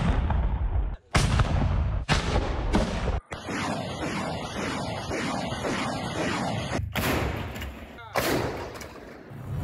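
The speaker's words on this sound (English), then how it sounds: "Mortar." Mortar and artillery fire booms during the Kharkiv counteroffensive near Balaklia, a series of heavy, close blasts and thuds, several in quick succession, with a voice speaking between the shots.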